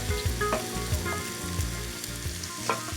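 Onions with red and green capsicums fry in a paella pan, a loud continuous sizzle up close with repeated soft knocks and scrapes of stirring throughout.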